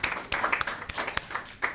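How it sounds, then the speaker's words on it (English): A career talk audience at a Ministry of Education and Youth session gives brief, scattered applause at its close, with sparse, uneven claps rising and falling over a couple of seconds. "can we get a round of applause for everyone?"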